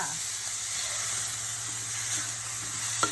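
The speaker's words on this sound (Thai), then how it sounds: "เราผัดหมูให้ สุก ไม่ต้องสุกดีนะคะ เราก็ใส่ น้ำปลาตามลงไปเลยค่ะ" Minced pork stir-fries in a pan as fish sauce goes in, giving a constant, fairly quiet sizzle over a low steady hum.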